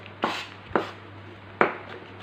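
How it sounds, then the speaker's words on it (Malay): A knife chops chicken finely on a board for lasagna, three sharp, separate strikes spaced unevenly with quiet gaps between them and a low steady hum underneath. "saya tunjuk kepada anda teknik dia untuk kita memotong atau kita mencincang halus sedikit halus."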